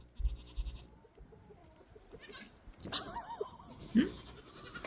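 A goat bleats in a game scene, short nasal cries near the end amid scattered knocks and clatter, with faint background talk.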